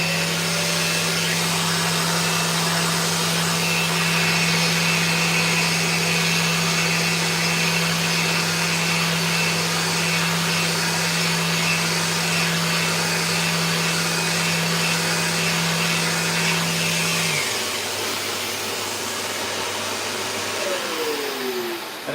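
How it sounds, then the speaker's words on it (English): An electric sander with only a pad fitted runs on a maple chopping board, a steady loud whine that holds for about seventeen seconds and then spins down as the motor stops. "So I'm just going to sand this quickly."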